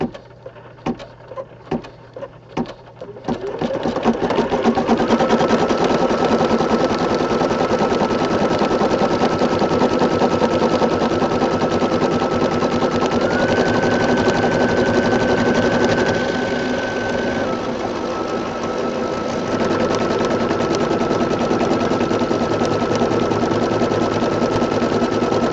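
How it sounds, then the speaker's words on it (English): Embroidery machine sewing a purple satin stitch for a small 4x4 rainbow design, starting with a few separate clacks, then a steady rapid mechanical chatter that runs loud and continuous, with a hum whose pitch shifts partway through. "Now you thread your machine, and it's going to run a satin stitch for the bottom purple of the rainbow"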